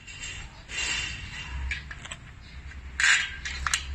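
Screws being tightened on a steel squat rack during assembly: scattered metallic scrapes, clicks and clinks, moderately close, with a sharper clatter of metal parts near the end.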